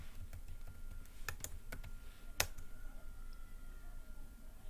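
Keys are tapped on a computer keyboard, a quick cluster of faint clicks followed by a single louder keystroke in a quiet room.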